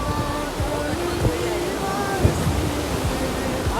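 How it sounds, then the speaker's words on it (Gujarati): Steady roar of dam overflow water rushing down a river near a bridge fills the scene, broad and continuous, with a voice speaking faintly over it. "ડેમનું ઓગનનું પાણી જોવો"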